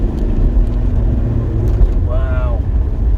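A car engine pulls hard in second gear up a village lane, a steady, loud drone close by with wind buffeting and a speaking voice over it.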